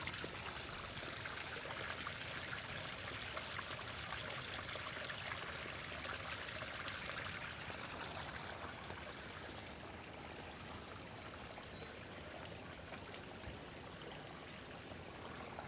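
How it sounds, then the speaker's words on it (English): A creek flows in a steady, faint, broadband wash that continues unbroken throughout, with no voices. "This is just turning out to be a great little creek day."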